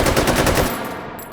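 A Draco AK fires a rapid burst of automatic shots in the H3VR virtual-reality shooting game, loud and close, then the echo fades out.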